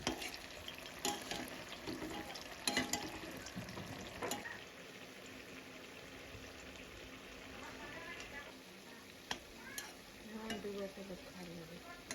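Food frying and sizzling in a pan during home cooking, with stirring scrapes and clinks throughout, steady and moderately close, with faint background voices.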